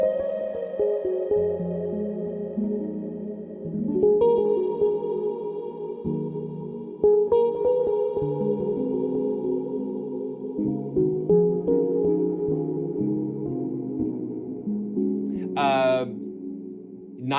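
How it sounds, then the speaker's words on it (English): Sampled instrument from the Nocturne library by Sonora Cinematic, drenched in a shimmering chorus effect: soft sustained tones that swell and shift over several seconds, with a brief bright flutter near the end, heard close and mostly alone. "listen to that little shimmer chorusing"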